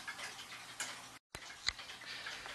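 Faint, sparse ticks from the grasshopper escapement of a rebuilt longcase clock whose pivot holes were drilled slightly skew, heard as a few soft, irregular clicks over a quiet hiss with a short silent break.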